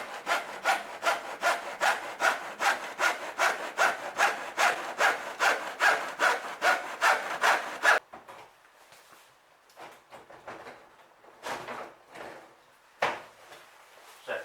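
Handsaw-like trimming of a VW Caddy 2K front bumper: a fast, even run of loud rasping back-and-forth strokes for several seconds, then quieter scattered scraping and a few isolated cutting strokes.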